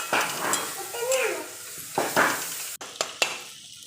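A ginger, garlic and coriander paste roasts in a pan with a soft sizzle, stirred with scraping motions and punctuated by a few sharp metallic clinks of utensil against pan.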